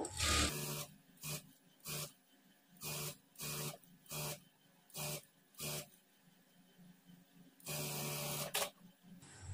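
A sewing machine stitches a blouse waistband in short, evenly spaced bursts of rapid mechanical chatter, up close and fairly quiet, ending in one longer continuous run.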